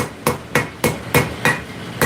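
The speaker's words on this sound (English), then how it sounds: "Using the round side of our hammer" A blacksmith's hammer strikes hot steel in a steady rhythm, seven ringing blows about a third of a second apart, close and alone, tapering the tip of a workpiece with the hammer's round side.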